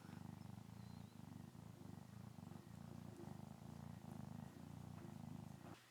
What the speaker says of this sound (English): See if everybody can hear your purrs.